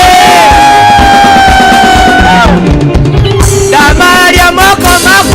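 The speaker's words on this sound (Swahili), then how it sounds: "Makofi ya juu, makofi ya chini, makofi ya juu, makofi ya wapi shangwe na vigeregere" A church congregation at a Kikuyu youth Sunday service cheers loudly, with long high ululations at the start, then a dense roaring crowd of yells and whoops, very loud and continuous.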